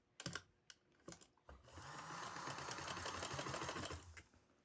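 A few close clicks and taps, then a sewing machine runs in one steady, brisk burst of stitching along a sleeve before stopping.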